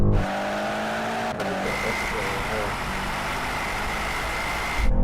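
A BMW M8 launches hard against a Porsche Panamera GT-4 and a Mercedes-AMG GT, engines roaring loud and continuous with rising tones through a short-shifted gear change.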